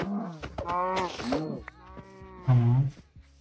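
A cow in the Minecraft video game moos twice, loud and close, with drawn-out lowing calls separated by soft game sounds and footsteps.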